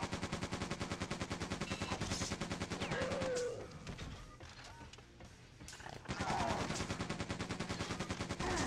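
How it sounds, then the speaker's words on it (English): Quake 2 Remastered machine gun firing in two long, rapid, loud bursts of tightly spaced shots, separated by a few seconds of quieter game ambience and scattered effects. "back to the machine gun"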